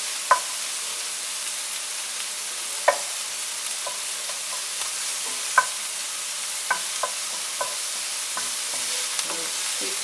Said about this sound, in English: Keep stirring around the onions